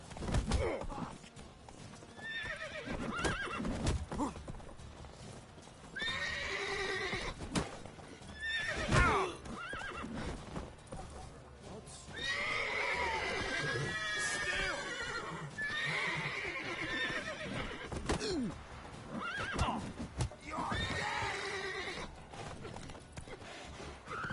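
In The Witcher 3, a horse neighs and whinnies loudly several times, with hoof clip-clops and other game effects between the calls, all fairly close and prominent.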